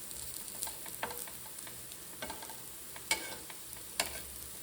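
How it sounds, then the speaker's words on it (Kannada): Food roasting in a pan, turned so both sides and the edges brown: a faint, steady sizzle with scattered soft scrapes and clicks of stirring, no voices. "ಎರಡು ಕಡೆನೂ ಚೆನ್ನಾಗಿ ರೋಸ್ಟ್ ಮಾಡ್ಕೊಬೇಕು ಮತ್ತು ಸೈಡಲ್ಲೆಲ್ಲ ಸ್ವಲ್ಪ ರೋಸ್ಟ್ ಆಗಬೇಕು."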